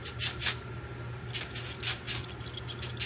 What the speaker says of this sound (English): Now I'm going to spray acetone on them.